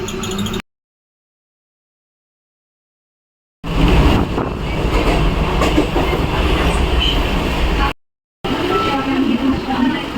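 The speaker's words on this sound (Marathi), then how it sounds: "मी आता ट्रेनमध्ये आहे आणि घरी चालली आहे" Train interior noise while riding home by rail, a loud steady rumble with rattling and wind hiss, broken by abrupt silent gaps at the start and near the end.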